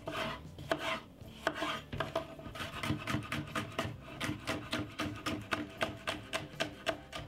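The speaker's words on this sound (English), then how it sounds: "This is some yellow pepper, and I cut them very small" A knife chops yellow and green peppers very small for a healthy salad, with quick, even strikes on a cutting board that grow into a rapid, close, regular rhythm.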